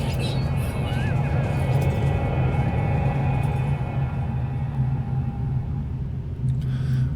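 A harsh storm on the planet Brimstone in No Man's Sky, a loud continuous low roaring rumble with steady wind-like noise and faint tonal whines drifting over it, unbroken throughout.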